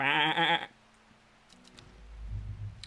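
Sheep bleating in the video game Strange Horticulture: one loud, close, wavering bleat opens, then quiet low ambient game sounds follow.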